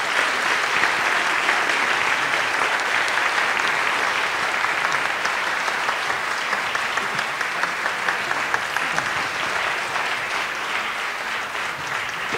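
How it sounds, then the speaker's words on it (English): Even, continuous applause from a theatre audience at the Tower Theatre after an author's Q&A, a dense roar of many hands clapping at steady loudness for the whole stretch. "Big round of applause"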